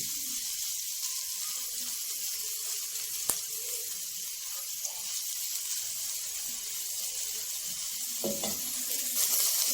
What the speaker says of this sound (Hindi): भून लेते हैं ताकि जो गोभी का ये बंद गोभी है ना इसको क्रंच जो इसका वो भी ख़त्म हो जाए